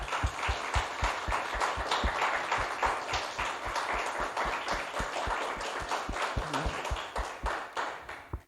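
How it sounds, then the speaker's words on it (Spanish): A church congregation at a women's meeting claps in a steady, fast rhythm of distinct, even handclaps that carries on throughout, moderately loud and close, with no talking. "dale un aplauso al Señor"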